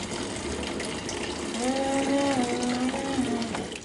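Running water gushes steadily from a tap as children play in it, with a brief high voice rising over the continuous flow near the middle.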